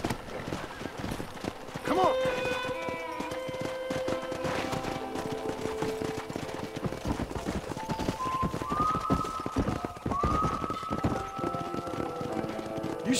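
Horse hooves clip-clop steadily in Red Dead Redemption while the rider travels alongside another rider, under a busy game soundscape with a horse whinny and voices talking over the top.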